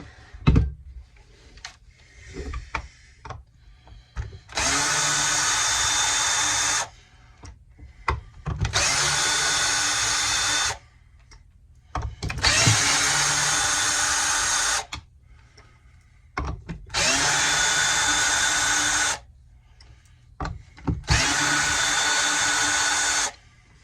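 Impact driver or drill loosening five bolts on a Homelite Super XL Auto chainsaw during teardown: five separate loud, steady whirring bursts of about two seconds each, with quiet handling clatter between them and no talking.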